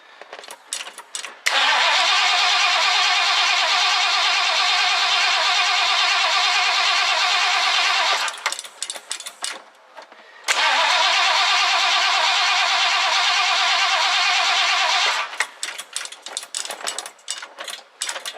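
A car engine cranks and catches, runs at a steady roar for several seconds, then dies with sputters. It cranks and fires again, runs steadily once more, and sputters out.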